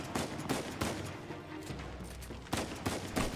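Pistol shots in a dusty room in the Uncharted 4 game, several sharp cracks in an uneven burst, fairly faint and without speech.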